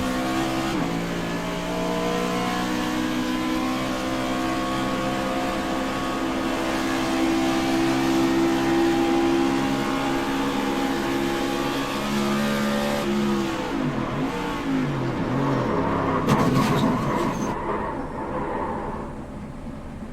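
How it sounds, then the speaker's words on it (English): A car driven hard for a rear-brake test, its engine droning steadily under load before the brakes are stomped hard and the car is thrown into a spin, the sound turning rough and scrubbing near the end. "stomp on the brakes good and hard"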